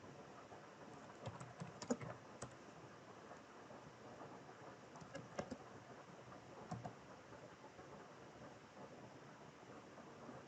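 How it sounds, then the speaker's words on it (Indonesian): Someone types a JavaScript script for a string.js file on a computer keyboard. Quick, light key clicks come in uneven bursts, with a few sharper taps standing out over a soft, steady background hiss. "Kemudian ketikkan script berikut."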